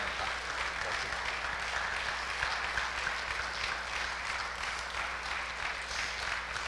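Applause from a church congregation during a Sunday service, a steady, dense wash of clapping that fills the space evenly from start to finish with no voices rising above it.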